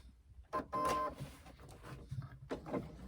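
A sewing machine stitches the sides of a tote bag pocket in short whirring bursts, with quiet pauses and handling noise between runs, close and fairly faint.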